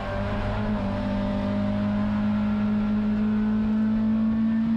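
Race cars at Sonoma Raceway, among them a throttle-stop Datsun 510, run with a steady sustained engine drone, heard from inside or close to a car at constant throttle, with no talk.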